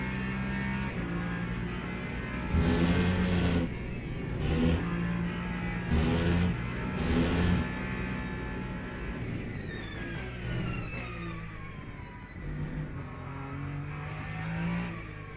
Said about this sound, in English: That is a Porsche.